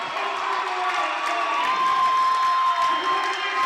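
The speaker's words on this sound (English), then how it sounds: "the crowd storming the court" Girls' high school basketball crowd roaring and cheering as fans storm the court after a game-winning shot, a dense, loud, steady wash of shouting and whoops with a sustained whistle-like tone running through it.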